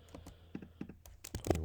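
A computer keyboard being typed on, a short run of about eight soft, close keystrokes entering a value, quiet and with no talk.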